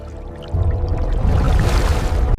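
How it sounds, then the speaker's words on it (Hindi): Water churning and sloshing in a 1971 naval harbour setting, starting abruptly after a quiet moment and continuing as a loud, steady surging wash. "अचानक पानी में हलचल शुरू हुई"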